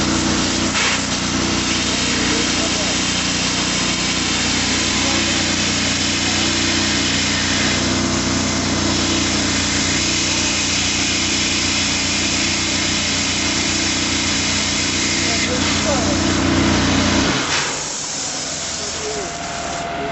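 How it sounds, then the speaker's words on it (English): A Cobra cutting system's engine runs during an Indian Navy demonstration of cutting through a ship's bulkhead, giving a loud, steady drone laced with hissing spray that cuts off abruptly near the end. "the engine has started"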